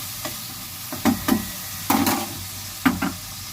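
Soaked chickpeas are stirred in a pan, a low sizzle broken by several separate scraping, rattling stirs, each brief and close, with no talk.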